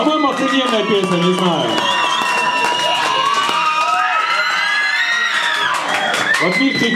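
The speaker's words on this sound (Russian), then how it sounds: "тебе тоже аплодисменты перепали" Audience at a live song performance breaking into cheering and applause, a dense sustained roar of shouts and clapping with whistles rising over it, loud and continuous throughout.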